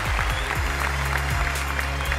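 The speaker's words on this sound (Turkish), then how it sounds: "Alkışlarla uğurluyoruz Mehmet'i." Studio audience on the Turkish talent show O Ses Türkiye claps steadily and densely throughout, with a voice faintly audible beneath the applause.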